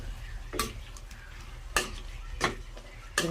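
Chicken afritada with tomato paste being stirred in a pan: a spoon scrapes and clinks against the metal at irregular intervals over a low, constant sizzle.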